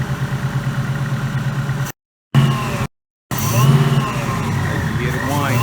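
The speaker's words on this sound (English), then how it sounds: "We'll let it idle for just a little bit." A 2018 Mustang with a 3.0 Whipple Stage 1 supercharger idling close by, a steady low rumble with a faint high whine above it, interrupted by two brief gaps, with voices over it near the end.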